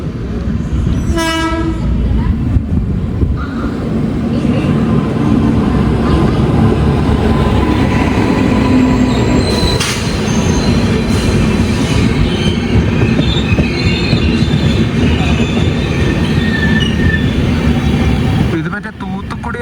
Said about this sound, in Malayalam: ഇവിടെ കാച്ചിഗുഡയിൽ നിന്ന് അശോകപുരത്തേക്ക് പോകുന്നൊരു വണ്ടിയുണ്ട്.